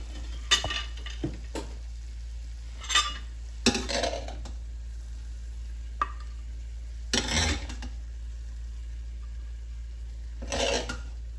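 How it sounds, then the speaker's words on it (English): Shrimp and veggie stir fry dished out of a single pot: a handful of separate scraping and clinking utensil strokes against the pot, spaced irregularly across a quiet background with a low steady hum. "and then I'll dish it out"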